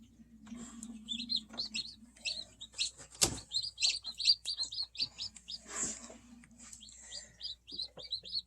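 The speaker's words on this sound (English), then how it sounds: "You hear all the little peeps." Newly hatched baby chicks peep in a rapid, high-pitched stream of close chirps, with a brief loud knock partway through and a low background hum.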